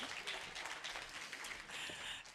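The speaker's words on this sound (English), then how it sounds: "I think you should get a round of applause for all your prop handling" Applause from a small audience at a science presentation event, a short burst of scattered clapping at moderate loudness.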